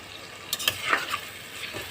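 Tomato goes into a pan of frying ginger, garlic, coriander, cumin and chilli for a fish roe curry, bringing a soft sizzle and a few sharp spatula scrapes and clacks against the pan, close by, with no talking.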